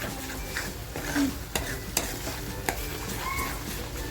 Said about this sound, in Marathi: आपल्याला मसाला हा छान अगदी परतवून घ्यायचा आहे